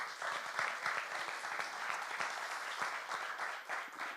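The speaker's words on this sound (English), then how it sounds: "Another round of applause, please." Sustained audience applause at a professional communications awards event, a dense steady wash of many hands clapping that stays loud and even throughout, with no voices standing out.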